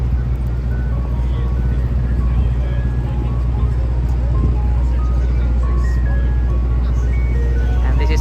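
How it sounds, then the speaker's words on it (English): Ice cream truck on a city street at Cedar Street and Broadway, its tinkling jingle melody playing repeatedly over loud traffic rumble while a person talks over it. "Summer day without ice cream truck, incomplete."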